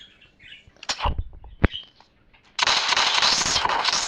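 An AA12 automatic shotgun fires in a video game: a couple of isolated sharp shots, then a sustained burst of rapid, loud gunfire that fills the rest of the moment.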